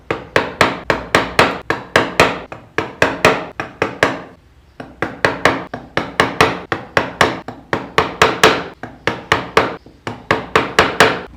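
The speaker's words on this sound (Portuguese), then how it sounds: "Nas partes redondas, eu não vou usar um formão médio, eu vou usar o menor que eu tenho" Steady mallet blows on a small wood chisel carving rustic woodwork, sharp knocks in quick even runs with a short pause partway through, loud and close with no voices.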